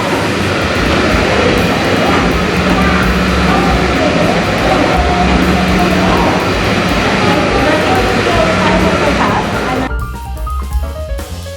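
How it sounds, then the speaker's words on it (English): A large steam engine rumbles steadily with a low, continuous roar and mechanical noise, loud and close, easing off near the end, inside a machinery museum. "Big steam engine."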